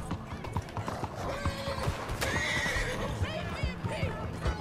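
A horse galloping and neighing in a video game about robbing shops, rapid hoof clip-clops running throughout with a loud whinny partway through and faint voices underneath.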